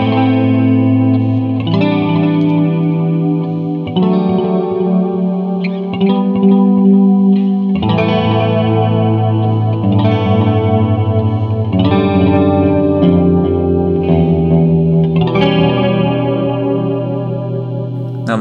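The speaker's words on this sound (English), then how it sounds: "This is a clean tone made with a Fender Twin Reverb amp model, some chorus, delay, and verb." Electric guitar played clean through a Digitech RP200 multi-effects unit on its Fender Twin Reverb amp model, with chorus, delay and reverb; steady chords and arpeggiated notes ring continuously, shimmering and echoing throughout.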